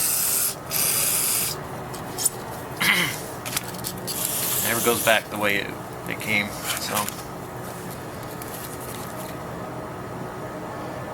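Short bursts of carburetor cleaner spray hiss on and off into the idle channel of a 1984 IT490 carburetor, with someone talking over and between them, plus small rubbing and handling noises.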